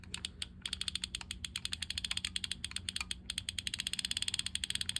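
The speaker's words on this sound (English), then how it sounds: "The clicking seems to be in the gear train back here." Rapid ratcheting clicks from the gear train of a Shakespeare Synergy TI20 titanium fishing reel as it is wound by hand, a close, steady train of sharp ticks with a brief pause near the middle.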